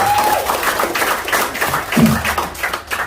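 A seminar audience briefly clapping after a call to applaud, a short patter of hand claps under room noise.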